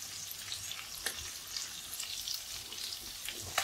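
Sardines frying in a pan of oil with a few curry leaves, a steady crackling sizzle with scattered sharp pops, moderately close and continuous, no voices.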